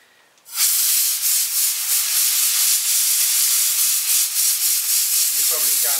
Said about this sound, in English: Always blow it from the inside out, otherwise you just shove it further into the air cleaner.